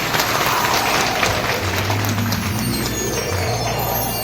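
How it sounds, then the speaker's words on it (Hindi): An audience at a religious gathering welcomes a saint with loud, dense, sustained clapping, with a low rumble running beneath it. "जोरदार तालियों के साथ स्वागत करें"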